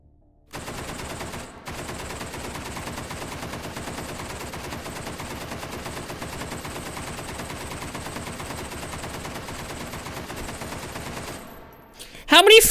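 Long unbroken stream of rapid automatic gunfire in a video game, loud and steady for about eleven seconds before cutting off, with brief noise at the end.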